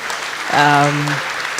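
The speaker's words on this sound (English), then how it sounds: "I think she deserves a better loud applause" A brief burst of loud applause for a student at a school prize and thanksgiving day event. A voice carries through the clapping for a moment.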